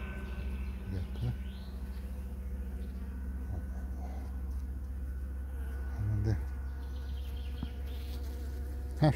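Honeybees hum steadily at an opened beehive during a colony merge, a close, continuous drone with occasional bird chirps and some speech in the background.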